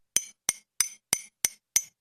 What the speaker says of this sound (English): You know when you bang glass?